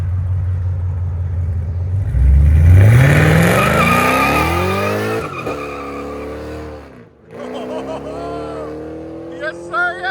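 An E85-tuned Chevy Camaro LT1 6.2L V8 with long tube headers, catless exhaust and OBX axle-back mufflers fires up and revs hard, its loud roar climbing in pitch, then dropping away before a second burst of revs.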